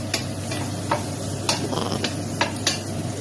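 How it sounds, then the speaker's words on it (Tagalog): Onions sauté in a hot pan of pork being cooked with bottle gourd, a steady close sizzle with repeated sharp clicks and scrapes of a utensil stirring against the pan, with no voices. "added natin yung sibuyas at ating ipiprito"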